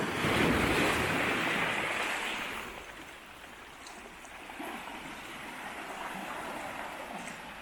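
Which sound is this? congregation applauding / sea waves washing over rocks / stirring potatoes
sea waves washing over rocks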